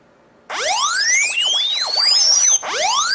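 Phone-triggered alarm blaring loud and close in sweeping electronic chirps that rise and fall continuously, breaking off briefly before restarting.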